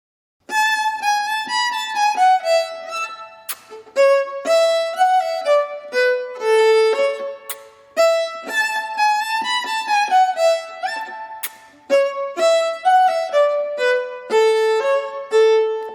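A bright tune plays in short, clear notes, with quick kissing pops filling the eighth rests between phrases; no talking.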